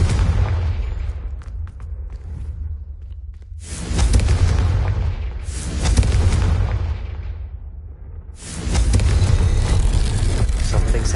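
Explosions from the Confringo spell in the video game Hogwarts Legacy go off several times, each a loud, sudden booming burst followed by rumbling decay, with short lulls between them.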